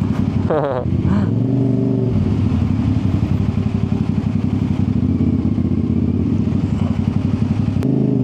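A CFMoto 450 motorcycle engine, running hot, idles and putters steadily up close in city traffic, with a brief rev near the start and surrounding road noise.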